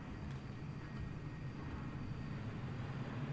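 Low, steady roar of an airplane passing close overhead above a house, a continuous broad rumble that holds at an even level throughout with no voices.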